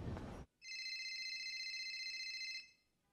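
A phone ringtone plays for about two seconds in bright, steady electronic tones after a short burst of noise, fairly close and clear with no talking over it, though no phone is on the person.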